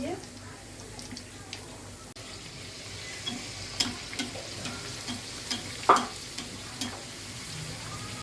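A homemade evening snack fries in hot oil with a steady, soft sizzling hiss and a few light utensil clicks, while a voice talks over it.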